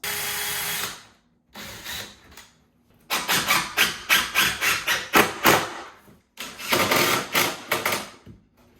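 Impact driver drives screws into a custom three-piece vanity cabinet, sounding as a long burst, a pause, then two runs of rapid hammering bursts, loud and close-up, with no speech over it.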